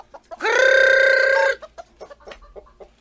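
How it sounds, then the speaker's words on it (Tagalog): A chicken close by lets out one loud, drawn-out call, followed by a quick series of short clucks. "Da kayo ang manok ni Uncle Kaw"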